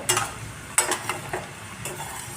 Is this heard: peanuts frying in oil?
yes